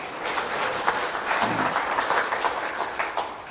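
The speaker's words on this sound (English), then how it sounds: "Give her a round of applause." A dense, steady wash of audience applause from a sizeable crowd at a nonprofit sale event, with many hands clapping at once and no pauses for its full length.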